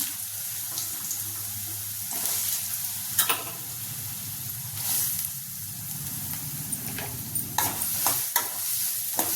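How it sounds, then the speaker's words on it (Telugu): Sliced onions frying in hot oil with cumin seeds and a pinch of salt, a steady sizzle under intermittent stirring scrapes and clinks of the spoon against the pan, close up. "జీలకర్ర వేడయ్యాక ఉల్లిపాయలు ఫ్రై చేసుకుందాం."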